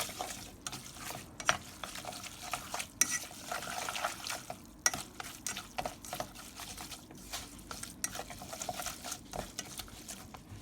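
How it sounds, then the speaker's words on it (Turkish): Instant ramen noodles being stirred in a bowl, with soft wet clicking and scraping in an irregular rhythm, quiet and close. "Bunları şöyle karıştırıyoruz."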